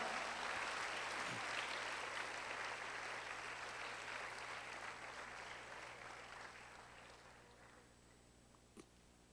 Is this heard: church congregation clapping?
yes